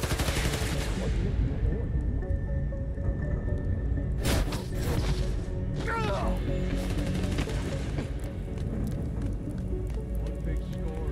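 Rapid gunfire crackles in the Spider-Man: Miles Morales game, dense and continuous bursts under a busy game mix, with a voice talking over it at points.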